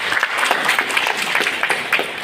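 An audience claps at a university student club anniversary gathering, giving a brief, dense burst of close applause that keeps up throughout.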